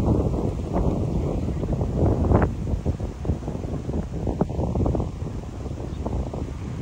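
Steady gusty wind from a typhoon buffets the microphone in a continuous low rumble, rising and falling slightly.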